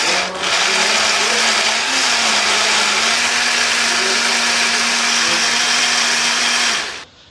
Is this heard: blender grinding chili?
yes